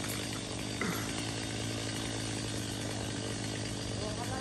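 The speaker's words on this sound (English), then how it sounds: "Look how fast he putting this chainsaw." Chainsaw cutting tree branches up in a tree during a tree-cutting job, heard as a constant, fairly distant buzzing drone that runs unbroken throughout.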